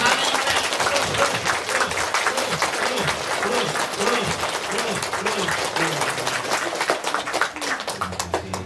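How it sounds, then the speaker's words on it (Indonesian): An audience at a motivational gathering claps loudly and continuously from start to finish, a busy crowd of hands with some voices mixed in beneath. "Tepuk tangan semuanya. Tepuk tangan."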